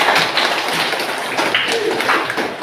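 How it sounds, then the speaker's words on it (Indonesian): Students in a primary school classroom clap together in a loud, fast patter of hand claps that runs steadily for a couple of seconds, heard close. "Bagus, tepuk tangan dulu"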